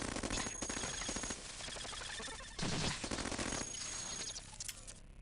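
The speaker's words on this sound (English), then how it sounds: "Let's go with a double assault rifle." A double assault rifle fires in the sci-fi robot game Cogmind, loud rapid bursts of synthetic gunfire crackling in dense clusters, with a brief pause and then further volleys.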